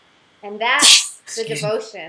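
One person sneezes loudly and sharply close by, and then someone speaks right after it.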